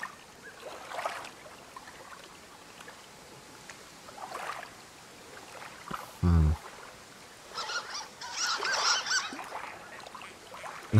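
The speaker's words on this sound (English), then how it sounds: "There's some birds out there." Birds honk outdoors in the video game Firewatch, a few scattered calls in a quiet forest ambience with a brief low thump partway through.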